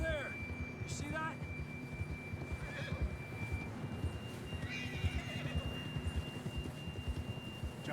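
Horse neighing and hooves clip-clopping in the Red Dead Redemption 2 video game, with a whinny near the start and steady hoofbeats throughout, moderately loud under a faint steady hum.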